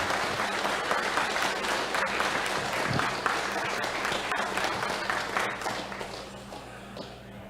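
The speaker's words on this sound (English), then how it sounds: "And how about a round of applause" Round of applause from guests at an anglers' welcome reception for a bass fishing tour, a crowd clapping steadily at moderate volume before tapering off near the end.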